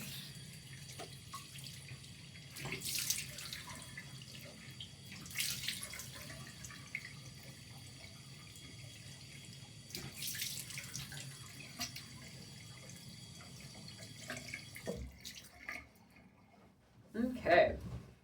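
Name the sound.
tap water running while rinsing face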